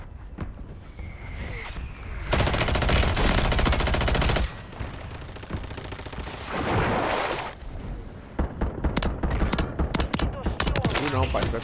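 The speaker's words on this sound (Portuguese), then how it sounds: "É um tiro." Rapid bursts of video game gunfire crackle and rattle in an online shooter match, with machine-gun-like volleys and single shots stacking up loudly, scattered booms and clatter between them.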